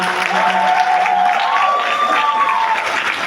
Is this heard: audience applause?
yes